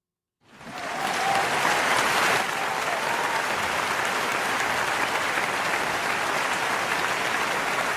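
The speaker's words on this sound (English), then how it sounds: "let's get you an applause button" Canned applause fires from a soundboard button: silence, then a sudden swell of dense crowd clapping that peaks early and holds steady and loud to the end.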